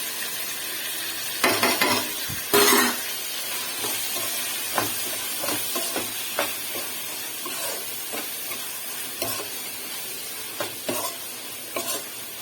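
Egg semiya sautéing in a hot pan, steady sizzle and hiss with irregular scraping and clinking strokes of a spoon stirring against the pan, close by and without talk.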